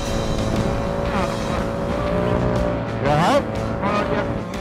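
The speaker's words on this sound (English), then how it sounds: "Can-Am Maverick Turbo is slow to accelerate," A Can-Am Maverick Turbo side-by-side races through the desert on the Vegas to Reno run, its engine roaring loudly and continuously with rising and falling revs and a sharp surge near the end.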